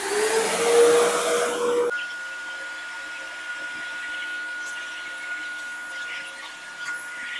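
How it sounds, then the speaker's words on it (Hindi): An Agaro ACE wet and dry vacuum cleaner sucks spilled water off a tabletop, a loud whooshing roar at first that drops to a steadier, quieter hum with a faint whine, no voices over it. "तो करते हैं वैक्यूम क्लीनर को ऑन"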